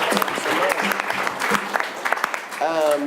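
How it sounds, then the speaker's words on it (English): Steady applause from a live-show crowd fills the whole span, with a voice speaking briefly over the clapping near the end. "Give yourself a big round of applause."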